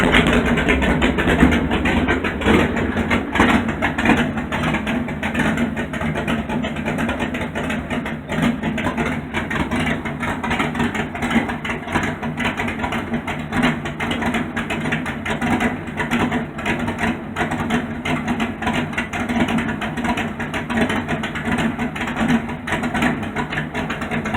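A straight-piped 5.9 Magnum V8 with a Hughes cam idles in a rough 1968 Plymouth Satellite, a loud, continuous, lumpy exhaust rumble that stays steady throughout with no talk.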